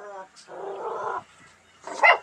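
A dog barks and whimpers nearby in short bursts, with a voice mixed in among the yips.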